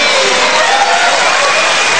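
Audience applause and crowd cheering for a comedian at an Indonesian stand-up comedy competition show, dense and steady throughout, loud and close with no talk on top.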